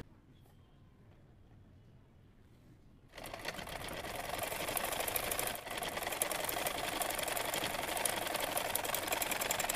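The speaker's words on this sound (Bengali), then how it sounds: "এরপর আমি নিচের জন্য যে 1 ইঞ্চি এক্সট্রা রেখেছিলাম নিচের ইঞ্চিটাকে আগে সেলাই করে নিব।" A sewing machine stitching the 1-inch bottom hem of a kameez starts after a quiet few seconds, then runs in a loud, steady, rapid mechanical whir close by, with a brief dip midway and no talk.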